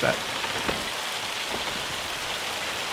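A steady, dense patter of hail falls in a Farming Simulator 25 farm scene, a continuous hiss of impacts with a few louder hits, heard close and without a break.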